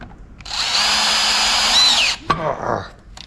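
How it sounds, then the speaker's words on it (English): A drill bit bores out leftover plastic, running as one steady high whine for about a second and a half, then cutting off, followed by a short rattling burst of scraping as the bit is worked in the hole. "I'm going to have to get that drill bit in there just to clean out that plastic that was in there"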